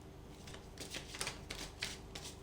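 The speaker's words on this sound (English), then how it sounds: "I will shuffle them again on the camera." A deck of tarot cards being shuffled, with a run of soft papery riffles and flicks repeating across the moment over a steady low background hum.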